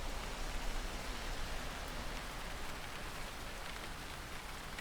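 Cold drizzle patters down steadily, a close, even hiss of fine rain on surfaces that continues unbroken with no voices.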